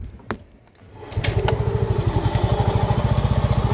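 A Yamaha Aerox scooter engine on its side stand fires up after a brief crank and settles into a steady, loud, close idle with a fast regular pulsing beat.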